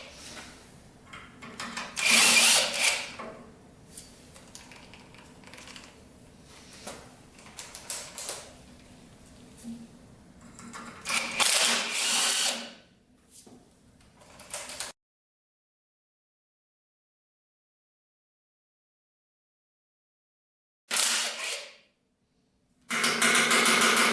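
A power drill unscrews the pipe bolts on an old 650cc motorcycle engine in several close, loud bursts of whirring and grinding separated by pauses, with a long silent gap before two final short bursts.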